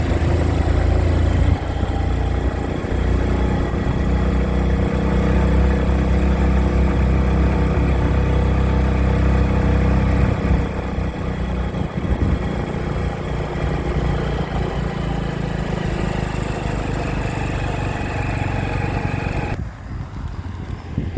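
A motorcycle engine labours steadily up a steep hill road, a constant close-miked drone with wind rush that drops away briefly near the end.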